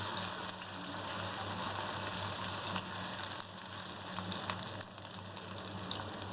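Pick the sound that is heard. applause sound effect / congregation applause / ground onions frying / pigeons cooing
ground onions frying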